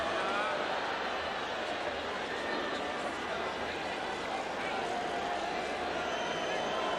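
A hushed football crowd at a stadium during Rapid Wien versus Dundee United: a steady, broad murmur of many distant voices with no distinct cheers, constant throughout.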